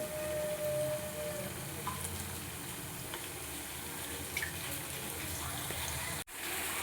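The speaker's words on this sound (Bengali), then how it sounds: "লো টু মিডিয়াম ফ্লেমে এগুলো ভালোভাবে ভেজে নিতে হবে" Steady oil sizzle of flattened rice snacks frying over low to medium flame, with faint clinks and a brief dropout near the end; no talking.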